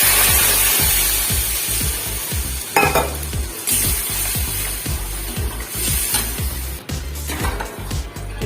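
A fried spice paste of turmeric, salt and masala in a pan, with water poured in; loud bubbling sizzle and a rapid, regular rumbling pulse persist throughout, with a few metallic clanks.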